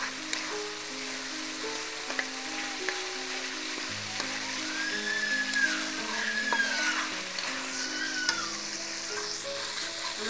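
Giant freshwater prawns with spices frying in oil in a pan, a steady close sizzle running throughout, with a soft tonal background and occasional faint clinks.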